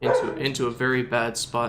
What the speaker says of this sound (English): I'm sorry for the dog, man.